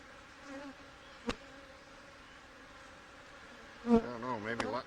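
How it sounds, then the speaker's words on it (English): Angry honey bees from a hive in need of requeening buzz steadily in a close, continuous drone, with a couple of sharp louder passes near the end as individual bees fly up toward the listener. "You see they're flying up at me."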